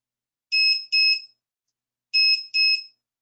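The grounding monitor on an electrostatic workstation sounds its alarm as two pairs of sharp, high electronic beeps separated by a pause. The beeps are loud and close against silence.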